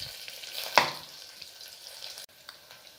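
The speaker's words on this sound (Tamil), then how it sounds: "நல்லா பொரியட்டும்." Onion and curry leaves frying in a pan make a soft, steady sizzle with one sharp clack near the start, and the sound stays faint and close throughout.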